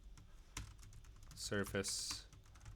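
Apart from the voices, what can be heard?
typing on a computer keyboard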